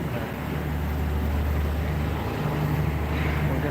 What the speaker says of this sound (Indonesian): ya suaranya agak bising karena suara mesin. Kita di belakang deck, jadi suara mesinnya sangat-sangat kedengaran kayak gitu